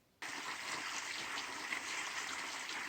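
A small mountain stream at a backcountry water source near Laurel Gap Shelter in the Great Smoky Mountains trickles and gurgles softly after a sudden start, continuous and fairly faint, with no talk.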